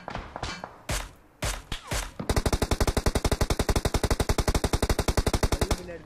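PUBG Mobile gunfire, loud and close: a few scattered single shots and thuds, then a long, rapid, evenly spaced automatic burst that runs to the end.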